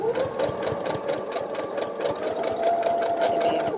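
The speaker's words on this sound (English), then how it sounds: "Put it back stitch over the elastic" A sewing machine back stitches over elastic on a fabric face mask, its needle chattering in a fast steady rhythm with a motor whine underneath, close and moderately loud.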